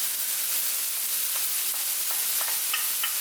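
Previously frozen chopped spinach fries in a pan for a summer pasta stir-fry, giving a steady, close hiss of sizzling with a few soft stirring taps near the end.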